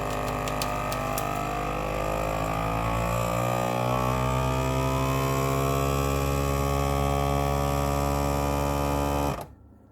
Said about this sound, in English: vacuum and seal.